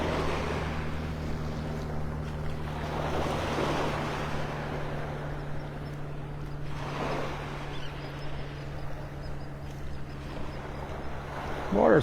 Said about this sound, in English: Water's kind of churned up.